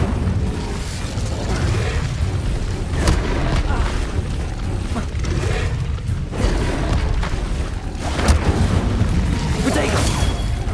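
Incendio fire spell cast again and again in Hogwarts Legacy on PC: loud, continuous roaring bursts and booms with repeated sharper blasts, forming a dense wall of combat noise.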